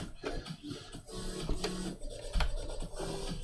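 Sewing machine stitching a fur patch, a steady mechanical whirring and clatter that runs throughout with small shifts in pace, close and moderately loud.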